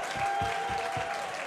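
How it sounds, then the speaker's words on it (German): An audience at a nominations announcement applauds the representatives of the 40-member pre-selection jury, a brief dense wash of clapping with a steady background tone running underneath. "jetzt bitte den größten Applaus der Welt für die Vertreter, die hier da sind, von der 40-köpfigen Vorauswahljury"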